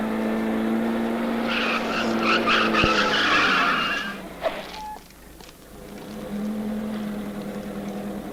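A car rolls in through a gate, its engine and tyre noise loud and close for several seconds before easing off into a quieter background hum, with a brief knock partway through.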